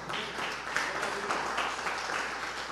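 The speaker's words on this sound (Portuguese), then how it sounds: "vamos aplaudir o nosso Deus" A church congregation on its feet claps together in praise: a continuous, even wash of many hands at moderate distance, with no voices rising above it.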